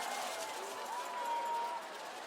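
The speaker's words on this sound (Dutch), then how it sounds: "Applaus." Audience applause and cheering at the Sjtasiefestasie festival in Roermond, a steady wash of many hands clapping, with a faint sustained tone running through the middle.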